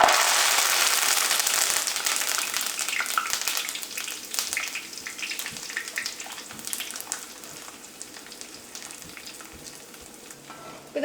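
Crushed garlic, dried red chillies and curry leaves fry in hot oil for a Kerala spicy mixture, giving a loud, steady crackling sizzle with sharp pops throughout, easing off slightly toward the end, with no voices.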